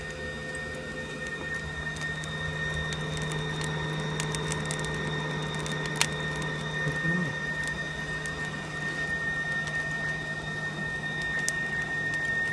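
Steady mechanical drone of a hairdryer used as a blower on a metalworking forge outdoors, constant and unbroken with a faint hum throughout, no voices.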